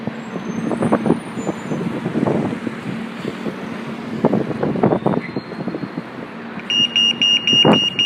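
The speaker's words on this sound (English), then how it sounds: "Ladies and gentlemen, the world's noisiest bus." A very noisy bus engine idles and revs in uneven surges near a road crossing, with bursts of air-brake hiss and a high beeping tone toward the end, all over wind buffeting on the microphone.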